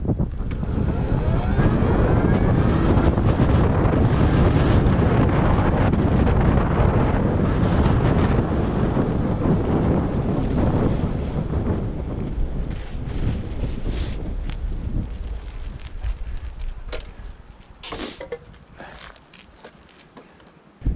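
A Vga Hyperide S moped accelerating hard outdoors, its engine note loud and close with heavy wind buffeting the microphone, then fading and thinning out toward the end as it pulls away.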